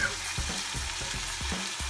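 Tomatoes sizzle in a paella pan, a steady frying hiss with soft low stirring thumps at a moderate distance and no talking.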